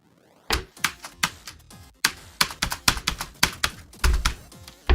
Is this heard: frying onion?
no